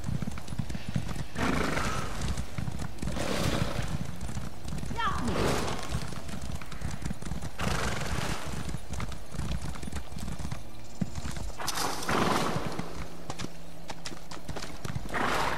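Horses gallop in The Elder Scrolls Online, a rapid, continuous clip-clop of hooves with an occasional whinny, heard under someone talking in French.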